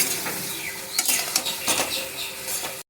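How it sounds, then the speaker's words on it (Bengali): Mixed summer vegetables with spices sautéed in a pan over high gas for a moong dal dish: steady loud sizzling with repeated scraping strokes of a spatula against the pan, no voices. "আমি এখন গ্যাসের হিটটাকে একটু বাড়িয়ে দিয়েছি সবজিটা কষানোর জন্য"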